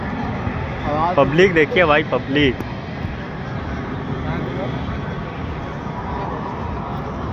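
Fighter jets roar overhead at an air show in Prayagraj, a broad steady rumble filling the background while people talk nearby in the crowd.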